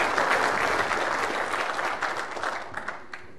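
An auditorium audience at NASA Goddard applauds to welcome the speaker Vint Cerf, a broad, even burst of clapping that thins and trails off near the end.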